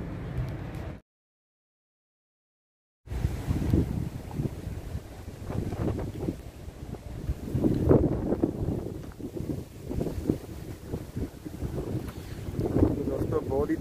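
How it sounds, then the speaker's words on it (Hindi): Strong typhoon wind with light rain buffets the microphone in loud, uneven gusts, with a brief silent gap near the start and a voice faintly underneath. "बहुत ही तेज़ हवा है यहाँ पर"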